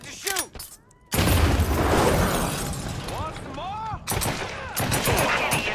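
Bursts of gunfire in Mafia III ring out loud and close, with shattering impacts and a sustained volley in the middle, while game voices and radio chatter sound around them.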